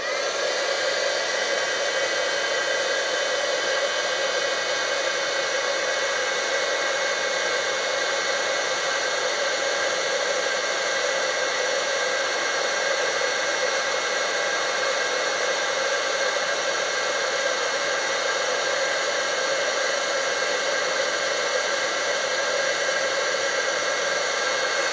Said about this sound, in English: All right, so I'm going to grab my heat gun